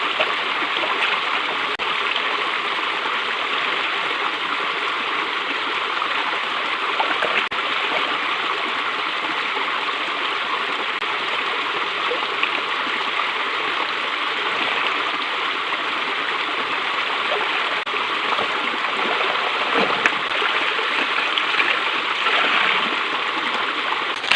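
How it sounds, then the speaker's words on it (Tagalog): Laundry is washed by hand with water, heard as steady close splashing, sloshing and trickling that continues evenly for over twenty seconds with no talking. "Kasi naglalaba ako ngayon."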